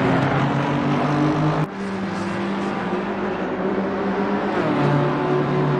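A BMW M4 GT3 race car engine in an Assetto Corsa Competizione sim race at Spa, held at full throttle as a loud, steady, droning roar with a brief gear-change dip partway through.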